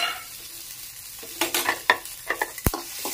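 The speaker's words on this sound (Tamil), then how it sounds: "நல்லா வதக்கிக்கலாம் எண்ணெய் ஊற்றி," Green chillies sauté in a little oil in a kadai, with a steady close sizzle and several sharp scraping stirs of a spoon against the pan; no one speaks.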